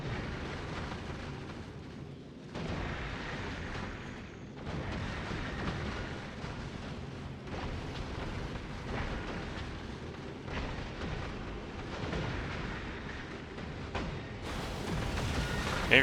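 Rail cannons fire in the video game Factorio: Space Age with a steady, fairly quiet barrage of heavy booms and rumbling blasts, repeating in waves over a continuous low roar.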